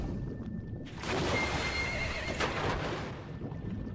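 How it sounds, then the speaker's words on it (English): A horse whinnies loudly amid clip-clopping hooves in Metal Gear Solid V: The Phantom Pain, set against a steady ambient wash; the whinny sounds game-like and sits close. "Horse acting up."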